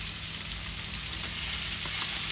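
Fish fries in a pan with a loud, steady sizzle close up, unbroken and without talk.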